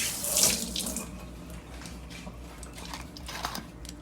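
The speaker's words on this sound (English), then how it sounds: "let me rinse my hand off." A hand rinsed under a running kitchen tap while BBQ ribs are being prepared: a strong gush of water at first, then a steady, softer stream splashing into the sink.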